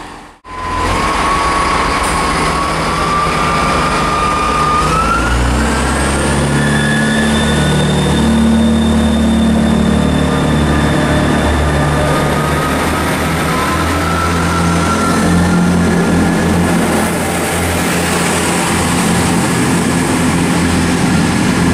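Class 166 diesel multiple unit 166203 pulls into Yatton station in Somerset, its engine drone loud and close, with rising whine and brake squeal as it slows over the long arrival.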